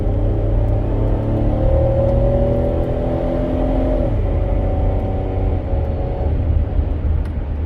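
A high-mileage van drives along the road, its engine humming and rumbling steadily up close. Engine pitch climbs and then drops as it shifts, with no one talking.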